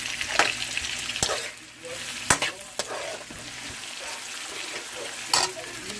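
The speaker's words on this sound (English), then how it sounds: "the pot is hot. So it's time to add the onions to it. So I'm gonna mix it." Onions frying in a hot pot while being stirred, a steady close sizzle broken by sharp scrapes and clinks of the spoon against the pot, with a brief lull in the middle.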